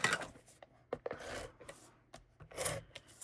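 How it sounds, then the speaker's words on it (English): A bone folder burnishes the crease of a folded paper gift card, producing soft scraping rubs in a few short strokes, close and quiet, with brief pauses between passes. "we're going to give that a fold with a nice burnish with our bone folder"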